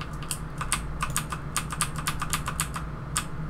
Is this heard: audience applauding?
no